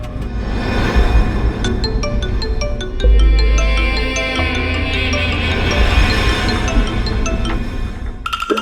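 A mobile phone rings indoors with a bright electronic ringtone, repeating tones sounding loud and close for several seconds.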